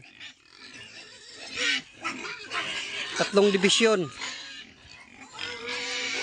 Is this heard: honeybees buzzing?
no